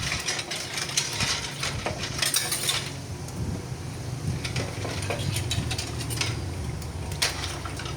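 Dishes and plates being washed by hand, with scattered clinks and knocks of crockery and cutlery over a steady low hum like a nearby running engine.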